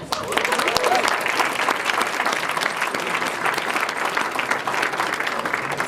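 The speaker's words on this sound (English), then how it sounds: "Can we please have a round of applause for the Bambanani Brass Band?" An audience at a French Legion of Honour award ceremony applauds a brass band, a sustained wash of clapping at moderate level, steady throughout with little variation.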